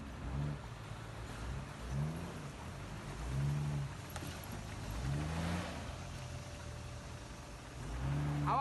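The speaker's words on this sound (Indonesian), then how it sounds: "Ayo gas Pak Haji." Offroad vehicle driving over heavy, rough terrain, its engine revving up and down in repeated surges, moderately distant and fairly quiet against outdoor background noise.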